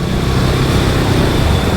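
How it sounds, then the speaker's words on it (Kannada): Several motorbikes ride together through Bengaluru road traffic, giving a loud, steady, close engine drone that holds without a break. "4 ಬೈಕ್ ಒಟ್ಟಿಗೆ ಬರ್ತಿದ್ದಾವೆ"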